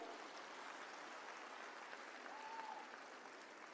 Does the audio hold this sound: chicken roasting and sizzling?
no